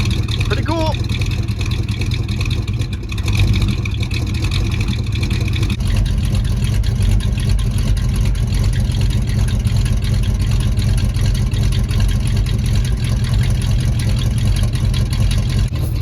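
A 1973 Ford Mustang Fastback that sat rotting in a yard for 30 years idles steadily after a restart, a loud, even low engine drone running throughout with voices in the background.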